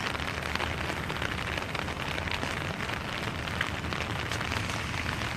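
Heavy pouring rain falls steadily outdoors in Hialeah, a dense, constant hiss and patter that stays loud and even throughout with no voices.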